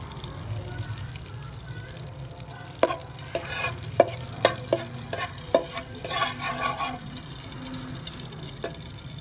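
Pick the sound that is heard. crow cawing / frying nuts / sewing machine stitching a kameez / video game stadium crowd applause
frying nuts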